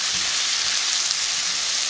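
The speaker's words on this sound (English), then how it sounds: "We're going to continue to cook our onions for about a minute and a half" Onions sizzle steadily in a hot pan alongside seared chicken, a loud, even frying hiss that continues throughout with no talk.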